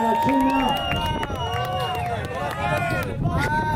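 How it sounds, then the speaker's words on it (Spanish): A crowd at an urban street festival in Tampico cheers and shouts in a loud, dense roar of overlapping voices, with whistles and scattered claps. "Fuerte bulla para la China"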